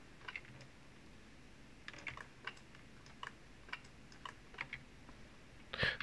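Faint, close computer keyboard keys clicking in scattered single presses and short bursts, the square bracket keys tapped repeatedly while working in 3D modeling software, with no talking.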